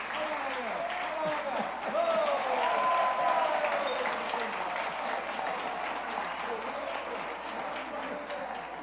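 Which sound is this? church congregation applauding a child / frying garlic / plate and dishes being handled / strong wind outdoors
church congregation applauding a child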